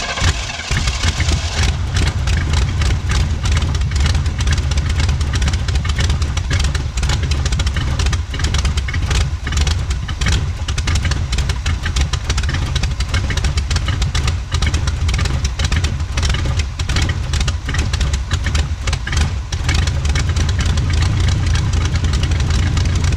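An old drag car pulled from a scrapyard runs loud and close, its engine holding a rough, steady, rapidly pulsing rumble for over twenty seconds with no break.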